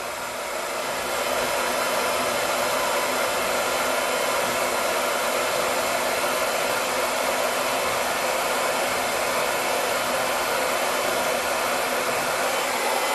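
A hair dryer blowing a bob haircut dry in a salon, a loud continuous close whoosh that holds steady throughout with no talking.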